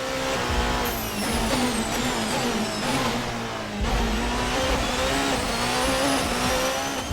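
A race car engine in the Assetto Corsa racing game screams at high revs, climbing through the gears with brief dips at each shift, loud and continuous for several seconds with no voices over it.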